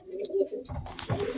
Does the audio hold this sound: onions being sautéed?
no